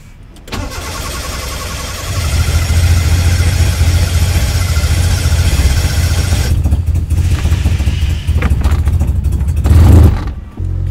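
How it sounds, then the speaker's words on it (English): A Toyota AE86 engine cranks and fires up after a breakdown, settling into a loud, close, rumbling idle with a brief rev near the end; no one speaks. "Okay, the car works again."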